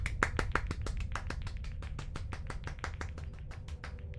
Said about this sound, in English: Look, they're clapping for us.